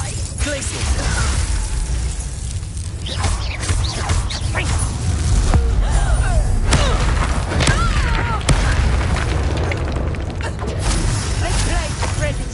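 A Confringo spell erupts in Hogwarts Legacy amid a busy battle, with heavy booms, crashes and clattering effects layered together over several seconds and voices shouting on top.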